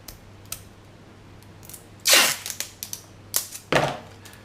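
Tape is pulled off a roll and torn in a few sharp, close rips and crackles, with scattered smaller clicks between, while building a simple Nerf shooting gallery.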